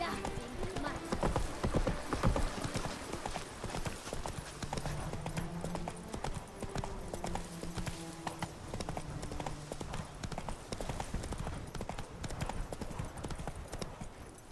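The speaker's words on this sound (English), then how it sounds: "Whoa there, Roach" A horse's hooves clip-clop steadily at a trot in The Witcher 3: Wild Hunt, in a continuous rhythmic clatter under game music, with voices talking over it.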